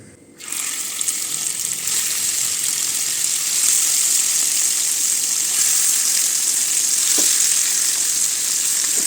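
Marinated masala fish hits hot oil on a flat tawa and bursts into a loud, continuous sizzle and spatter. A faint tap of a utensil is heard partway through.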